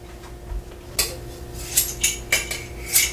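A kitchen knife drawn across a sharpener in a home kitchen, with about eight quick metallic scraping strokes in an uneven rhythm, close and fairly loud over a faint steady hum.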